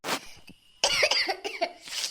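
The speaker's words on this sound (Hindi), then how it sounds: "देखा दे बहिनी कितना खांसी आवत है।" Someone with a cold and fever coughs in a harsh, chesty fit: a burst at the start, a longer run of rough hacking and throat-clearing in the middle, and another cough at the end, close and fairly loud.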